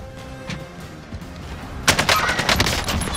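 Rapid automatic gunfire in Call of Duty, a sparse shot or two at first and then a dense, loud burst of rattling fire that keeps going to the end.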